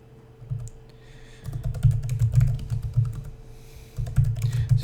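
Brisk keystrokes on a computer keyboard enter a bash history command, a quick cluster of clicks, a pause, then another short run of typing, close and clear over a low hum.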